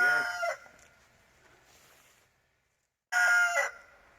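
A chicken crows loudly and close, a bright drawn-out call that fades into quieter clucking, then falls silent before a second sharp burst of crowing near the end.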